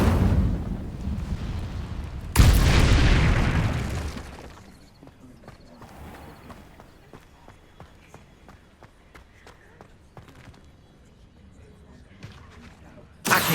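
An Incendio fire spell blasts in Hogwarts Legacy: a loud, sudden whooshing burst that roars for a couple of seconds, then lighter scattered impacts and footsteps, with a fresh burst right at the end.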